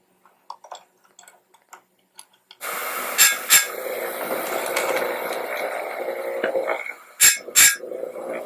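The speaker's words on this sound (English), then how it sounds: "Let's just throw this thing on the sharpener." A Stihl MS310 chainsaw chain is ground on a powered sharpener: after a few faint clicks and taps, a loud continuous grinding whine starts and runs on, broken by short sharp bursts as each tooth meets the wheel.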